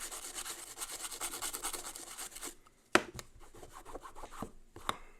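A small screwdriver scrapes dirt off a Game Boy cartridge, making a dense, rapid scratching that stops abruptly, then gives way to scattered light scrapes and a couple of sharp clicks and taps.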